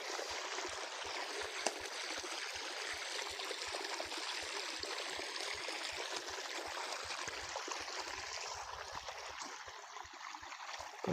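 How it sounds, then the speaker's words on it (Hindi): Well water pours and trickles into a crop field with a steady, close rushing flow. A regular low thumping pulse, probably a pump, runs under the water throughout. "देखो पानी गिर रहा है, यहाँ पानी"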